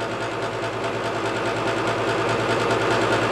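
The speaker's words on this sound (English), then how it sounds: "So our combustion motor has just started." A gas furnace combustion motor running steadily after start-up, a continuous close-up hum and whir with an even mechanical vibration and no breaks.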